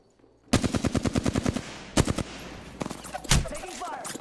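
Rapid automatic gunfire in the Apex Legends video game: a fast burst of about a dozen evenly spaced shots, then a few heavier single shots and scattered bangs, loud and close with no talk.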